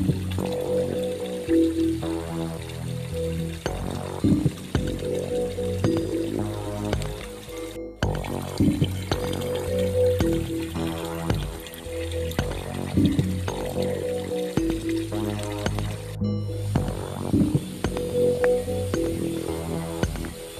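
Water pouring from a spring spout on Mount Sanggabuana, a steady splashing rush that runs on without a break, with faint tonal sounds in the background.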